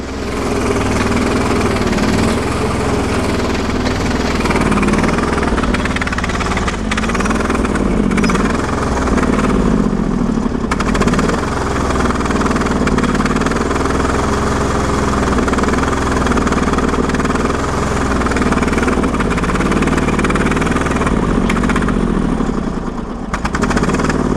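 A Briggs & Stratton 20HP V-twin engine on a Sears loader used for moving snow runs loud and close, holding a steady, throbbing drone with slight wavers in speed for the whole stretch.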